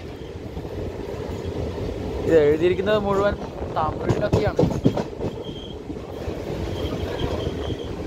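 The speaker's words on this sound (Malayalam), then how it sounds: "ഇതൊരു പാസഞ്ചർ ട്രെയിൻ ആണ് കേട്ടോ." A passenger train pulled by a WAP-4 locomotive rumbles steadily on the rails, with a burst of squealing and clattering wheels midway, while someone talks over it close by.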